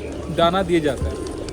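Pigeons coo at Pashupatinath temple in Nepal, a few soft warbling calls up close while someone talks over them.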